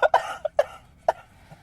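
A person coughing in a casual indoor conversation, a quick burst of four or five close, loud coughs that trail off.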